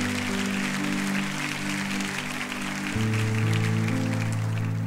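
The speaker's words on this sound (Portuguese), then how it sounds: "Você pode aplaudir ao Senhor por isso?" A church congregation applauding at an Easter service, a sustained wash of clapping over a held, droning keyboard chord that shifts midway, fairly loud and continuous.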